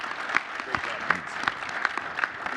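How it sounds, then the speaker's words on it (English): A conference audience at a general session claps in a steady, moderately loud round of applause that stays even throughout, with no cheering or talk standing out. "I just want to give Mark and Corie another great round of applause"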